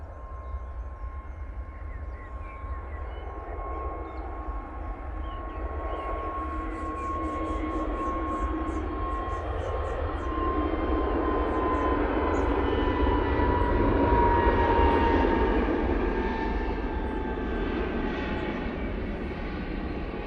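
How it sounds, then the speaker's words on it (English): An Airbus A320neo taking off at Manchester Airport in low visibility, a broad engine roar with a steady high whine that swells gradually over twenty seconds and holds loud toward the end. "Now we've got a turn and burn coming from it. They'll be going off to Munich now"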